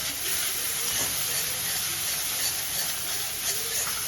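Spices cook in hot oil with turmeric and chili powder, giving a dense, even sizzling hiss throughout with faint stirring underneath.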